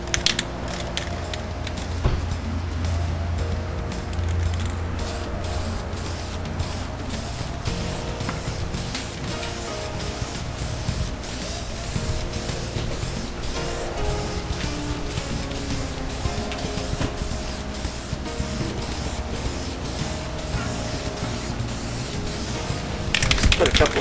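A steady, close hiss of spray paint lays clear coat onto a Honda Del Sol, running continuously for the whole stretch with faint mechanical clicks and rattles mixed in.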